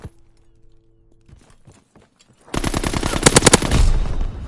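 An aircraft strafing run in a video game: after a quiet stretch with faint clicks, a loud burst of rapid machine-gun fire erupts and rattles on for about two seconds, close and harsh.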